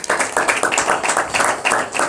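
Rhythmic group clapping at a Christian home prayer meeting honoring Jesus, steady repeated claps from several people for about two seconds, fairly close and loud with no talk over it.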